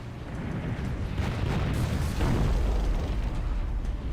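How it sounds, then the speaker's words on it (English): Artillery fire on a battlefield in the strategy game Zero-K: a steady, rumbling wash of overlapping explosions and booms, loud and continuous with no talking. "There is a lot of artillery on the field again."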